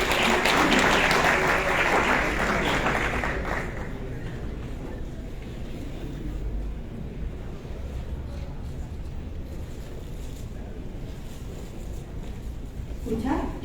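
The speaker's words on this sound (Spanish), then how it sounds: "Aplausos, por favor." Audience applause at a natural gas industry congress in Peru: a dense, loud burst of clapping from a large crowd that fades after a few seconds into a lower crowd murmur and room noise.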